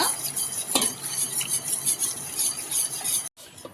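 Milk, curd and oil are beaten together in a bowl for a rava cake, a busy close whisking and scraping of utensil against the container that runs continuously, then cuts off abruptly near the end.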